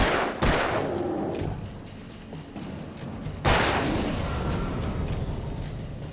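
Two sharp gunshot blasts in the video game Alan Wake, each followed by a long rumbling decay, with a steady background of game ambience between them.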